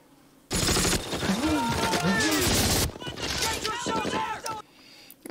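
Gunfire from a war drama series about a WWII airborne company plays as rapid bursts of shots and blasts under loud battle noise, while people in the room talk and react over it.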